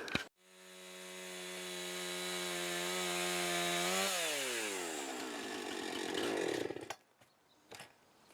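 A power saw cuts through a wooden roof post, its motor whining loudly and steadily before the pitch drops as the blade bites the wood, then cuts off with a few faint clatters.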